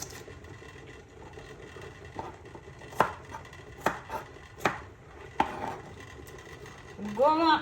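Vegetables being cut into small pieces with a knife on a board, a handful of sharp, close chops spaced irregularly over low background noise, with a voice briefly at the end.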